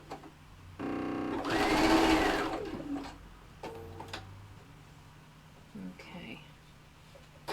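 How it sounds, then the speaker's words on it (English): A sewing machine stitching bias binding onto the top of a vanity case runs in one loud burst of a couple of seconds, followed by a few brief short whirs, with a voice heard faintly around it. "So we're just sewing the bias to the top of this."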